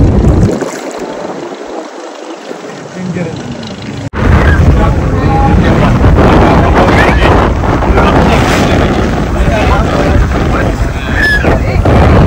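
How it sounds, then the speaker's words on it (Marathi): A boat engine rumbles steadily with rushing water and wind buffeting the microphone as the boat heads to Murud fort on the Alibag coast. The noise grows sharply louder partway through and stays dense and continuous. "मुरुड किल्ल्यावरती चाललेली बोट."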